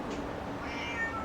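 A neighbour's cat meows once outdoors beside a path that will be paved, a single drawn-out, rising cry lasting about a second, close and fairly clear over a quiet background, with no talking.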